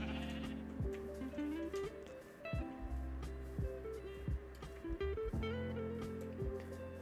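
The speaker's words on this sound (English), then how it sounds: "Oh, shut up, sheep." Sheep in the video game Minecraft bleating repeatedly, several short wavering baa calls in an irregular rhythm over background game music, fairly close and clear.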